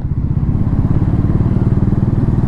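A motorcycle engine runs at close range on a group bike ride in Maharashtra, its loud, steady, throbbing idle pulsing evenly throughout with no talk over it.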